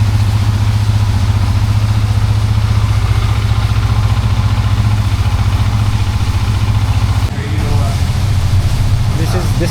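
A liquid-cooled 150cc Benelli 150S motorcycle idles nearby with a steady low throbbing beat, loud and close, with a brief change in tone near the end.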